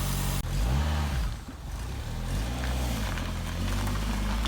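A car engine runs close by just after an AWD gearbox swap on a gravel lot, with a steady low rumble that dips briefly and then settles back into an even idle.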